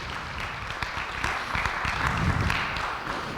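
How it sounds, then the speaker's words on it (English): Audience applause at a talk on empowering veterans, a moderate spread of clapping that swells slightly near the end, heard alone without speech. "Yeah, round of applause."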